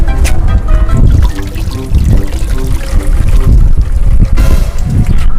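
Water poured onto dry garden plants, a steady trickling pour splashing close by with continuous liquid sound, no talk.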